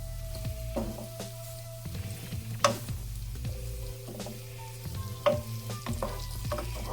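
Two cloves of garlic sizzle quietly in a pan, a soft continuous frying hiss broken by occasional stirring scrapes and clinks, with a low hum underneath.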